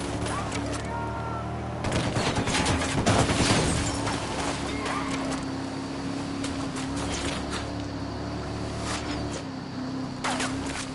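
Gunfire in Ghost Recon Wildlands, with bursts of rapid shots and sharp cracks scattered over a steady vehicle-like hum, loudest around the third second, with some voice in the mix.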